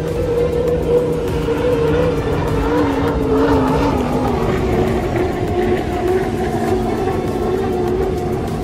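Unlimited hydroplane race boats roaring past at the Guntersville Hydrofest, a loud continuous turbine drone that shifts pitch slightly, with no break over the whole stretch.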